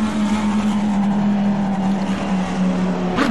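A race car engine in the video game Assetto Corsa Competizione drones steadily at high revs, a loud continuous whine with a strong steady pitch and a brief surge near the end.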